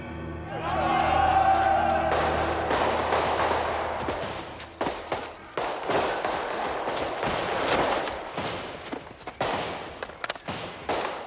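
Several sharp gunshots crack out over a dense, noisy commotion of voices and movement, with loud irregular bangs scattered through the middle and end.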